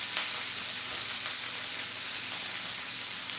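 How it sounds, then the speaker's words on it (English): Swordfish sizzling in hot avocado oil in a pan, with ice on the fish spitting as it hits the oil: a steady, bright, close hiss running the whole time without talk. "Listen to the sizzle"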